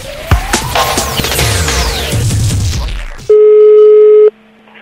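A telephone tone sounds when a call is placed, a single steady electronic beep lasting about a second after a burst of clattering, crashing noise.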